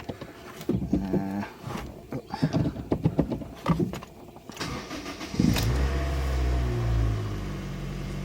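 A Honda Fit with a crankshaft position sensor fault (code P0335) cranks and catches at about five seconds, then settles into a loud, steady idle rumble. Indistinct voices and handling noises come before it.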